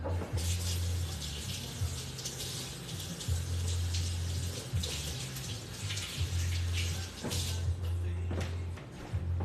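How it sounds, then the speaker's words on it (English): Tap water runs steadily in a kitchen sink while a kitchen scraper is rinsed under it, a close continuous splashing rush over a low background hum. "Let me rinse off my scraper."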